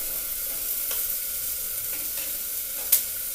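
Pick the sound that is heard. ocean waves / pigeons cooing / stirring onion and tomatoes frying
stirring onion and tomatoes frying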